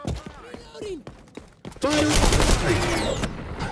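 Gunfire in the first-person shooter XDefiant erupts into sustained, loud bursts of automatic fire after a few sparse shots and brief voiced game chatter, dense and close through the second half.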